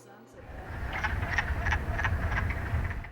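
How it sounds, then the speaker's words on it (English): Frogs chirping in spring in Vermont, a chorus of repeated short croaking calls pulsing at a steady rhythm over a dense, rumbling background, moderately near and continuous. "the unmistakable chirp of the frogs"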